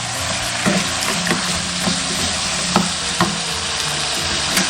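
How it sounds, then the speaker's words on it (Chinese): Pork ribs with chestnuts and scallion pieces being stir-fried in a wok make a loud, continuous close sizzle with regular scraping strokes of the spatula. "最后加入葱段，炒1分钟就可以了"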